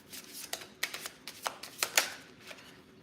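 Tarot cards being shuffled, a soft, close run of papery riffles and flicks in uneven bursts, quiet and without speech.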